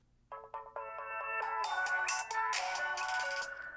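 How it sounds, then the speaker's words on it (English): A Samsung phone plays its classic boot-up chime, a bright melodic sequence of rising electronic tones that swells into layered, ringing chords, clear and alone against a quiet background. "I got another phone turning on, and it's got that, those nice classic Samsung boot up sounds"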